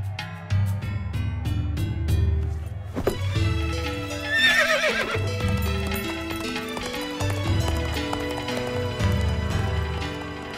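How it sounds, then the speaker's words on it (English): Horse sounds in an animated Gulliver's Travels film: whinnies and clip-clopping hooves over a busy orchestral score, with a sharp accent near three seconds and a brief voice. "Get down from the horse."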